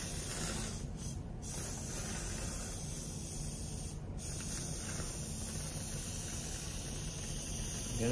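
A can of spray foam sprays expanding foam over a bowl, a steady close-up pressurized hiss running almost continuously with a couple of brief pauses, with no talk.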